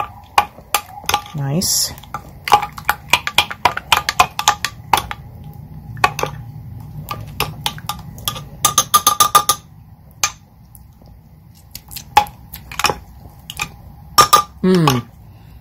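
Turkey burger ingredients with zest being mixed in a bowl, giving irregular clinks and scrapes of utensil against the dish, close and fairly loud, with a brief spoken remark.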